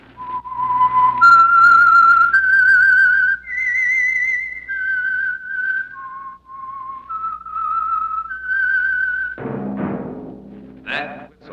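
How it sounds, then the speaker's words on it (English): Whistled melodic theme announcing The Whistler mystery radio program, a lone clear whistle stepping through a slow, wavering tune, followed by a brief burst of orchestral sound at the end. "That whistle is your signal for the Signal Oil Program, The Whistler."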